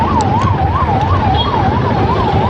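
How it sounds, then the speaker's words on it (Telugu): An ambulance siren wails in a regular rising-and-falling cycle amid street traffic, loud and close over a rumbling road-noise bed. "అంబులెన్స్ కూడా ఆగింది అనుకుంటా"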